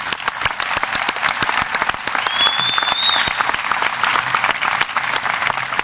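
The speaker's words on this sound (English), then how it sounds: "I think you deserve a round of applause for that." Graduation ceremony audience applauding steadily for about six seconds, dense sustained clapping from a large crowd with no speech over it.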